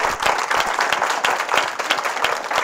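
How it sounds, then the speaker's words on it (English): An audience at an evening World Affairs Council talk claps warmly as the program ends, a dense run of distinct hand claps, fairly close and steady throughout. "I ask you to continue the applause"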